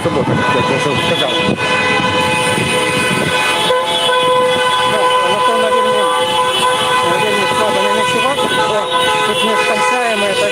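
Continuous car horns honk in a city street during a 2020 solidarity protest in Mogilev, many sustained toots overlapping loudly and without pause while people talk nearby.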